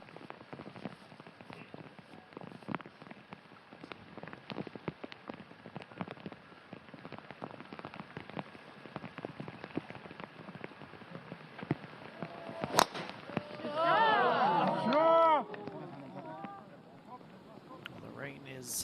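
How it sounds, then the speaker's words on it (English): Heavy rain pours steadily onto a golf course during a professional tournament final round, a dense constant hiss with scattered sharper drops, while broadcast commentary runs over it. "The rain is unrelenting."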